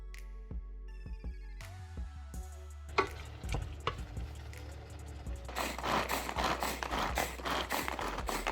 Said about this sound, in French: je vais verser les tomates.